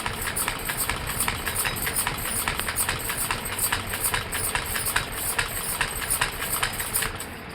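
A hand-cranked sewing machine runs steadily at home, a fast, even mechanical clatter repeating close by for several seconds, alone without talk.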